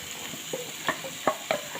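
Ground tomato paste goes into a frying pan while cooking butter chicken, with a few sharp spoon-on-pan clinks over a soft, quiet sizzle, all close and fairly faint.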